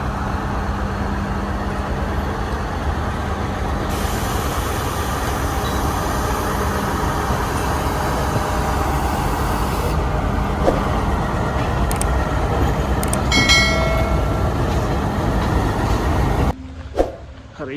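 A passenger train rumbles steadily along the line on a home-to-campus journey near Peradeniya, heard from on board as a continuous loud low roar with rattling and brief squeals, dropping off abruptly near the end.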